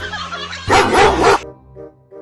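A dog barks once in a loud, sharp burst, followed by a couple of faint, short yips or whimpers.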